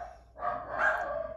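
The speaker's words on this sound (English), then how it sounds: "Yes, we've got the dogs." A dog barks indoors, one sustained loud bark or a pair of overlapping barks, close by and clear, with no one talking over it.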